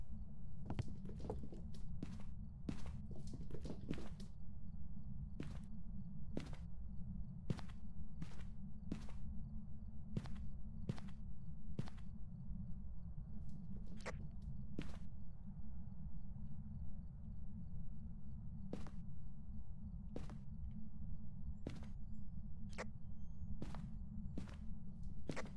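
Ghost footsteps in Phasmophobia: a run of sharp, evenly spaced thuds over a steady low rumble, clustered early and then striding on at a regular pace, fairly close, with no voices.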